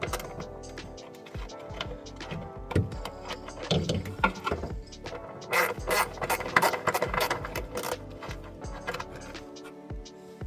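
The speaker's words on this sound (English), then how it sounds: "now I'm just gonna use a 10mm socket" A ratchet with a 10mm socket clicks and whirs as bolts come out during a fuel filter change on a Jeep Grand Cherokee, with repeated bursts of ratcheting and metallic clatter, close and moderately loud, and no talk.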